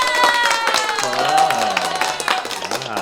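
A studio audience claps and cheers in welcome for a guest from Five Paddles Brewery, lively applause mixed with voices talking over it.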